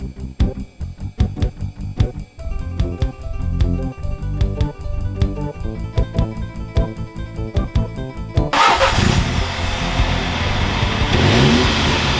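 A 2017 Mini Cooper S (F56) engine accelerates on a rural British B-road in terrible weather, with rhythmic revving pulses at first, then a dense, loud, continuous roar as speed builds.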